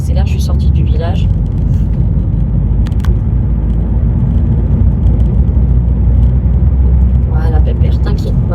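A car pulls out of a village and accelerates on a country road, heard from inside as a steady, loud engine and road rumble that fills the whole stretch, with brief speech over it at the start and end.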